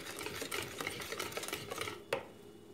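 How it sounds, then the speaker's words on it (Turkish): A whisk beating yogurt and other liquids for a cake batter in a bowl, with rapid, fairly quiet rhythmic clicking and swishing close by, ending in a sharper tap. "Şimdi sıvıları biraz böyle çırpacağımla karıştırıyorum."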